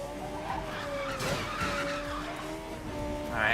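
A 3-liter V8 car in Need for Speed Most Wanted 2012 corners tightly, tires skidding and squealing over a steady engine drone, loud and close throughout, rising at the end.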